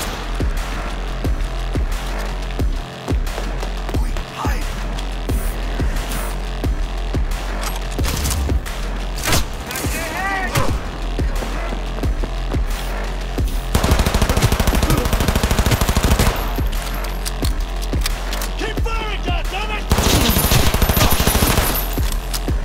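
Sustained automatic gunfire from the video game Cyberpunk 2077, loud and dense with rapid bursts and heavy impacts filling the whole stretch, no talk over it.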